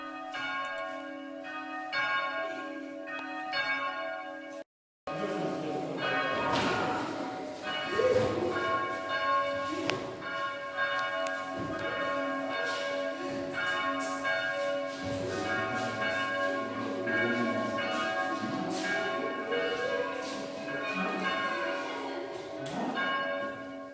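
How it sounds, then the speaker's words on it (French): A single church bell tolls steadily at 11 o'clock on 11 November, a commemorative ringing at the church of Rotonde. Its rich, sustained ringing tones fill the space throughout, broken only by a brief gap near the start. "nous avons sonné la cloche de l'église de Rotonde à 11 heures pendant 11 minutes"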